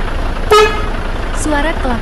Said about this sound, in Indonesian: Suara klakson satu.